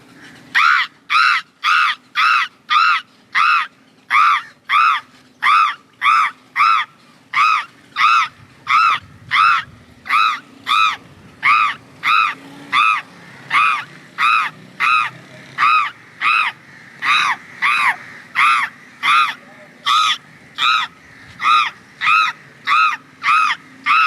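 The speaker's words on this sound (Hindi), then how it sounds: "आप जो है वो आसमान पे हमें कौवे बुला के दिखा दें" Crows caw over and over in a steady, rapid series of loud harsh calls, answering a man calling them up into the sky outdoors, with faint background noise beneath.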